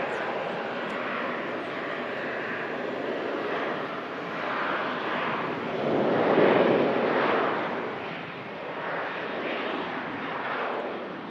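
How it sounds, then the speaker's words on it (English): Ryanair Boeing 737 departing runway 23 left at Manchester Airport, a broad roaring jet engine rumble that swells and fades in waves, peaking midway, heard from a distance. "Ryanair 737 heading off on the south side as well. 23 left. Departure."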